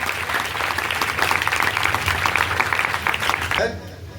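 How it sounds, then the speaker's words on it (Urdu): A church congregation claps together at the pastor's urging, a dense, loud patter of many hands with a voice over it, then the clapping stops abruptly near the end. "سب کلیسیا تالیاں بجائیں"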